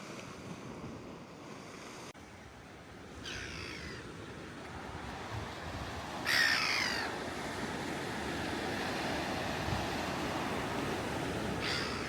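A black-headed gull calls a few times by the sea on the Isle of Wight, short squawking bursts standing out over a steady wash of surf and wind noise.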